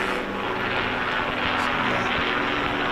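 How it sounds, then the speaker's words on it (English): A helicopter flying overhead at a local football match in Onka Valley sends out a steady, fairly loud rotor and engine drone that holds through the whole stretch, with faint crowd murmur beneath. "Chopper overhead."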